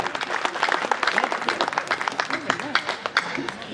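Applause from listeners at a poetry gathering (kavi sammelan) in Laxmanpuri Colony, Barabanki, brisk and fairly close, with a voice speaking over the clapping throughout.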